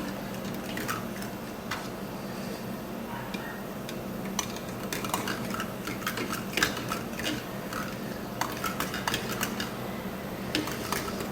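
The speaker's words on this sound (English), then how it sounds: "I am using this good old-fashioned pancake masher, and you can tell it's still mixing" A metal pancake masher works through cheesy broccoli soup in a pot, making an irregular run of light ticks and clinks against the metal over a low bubbling hum.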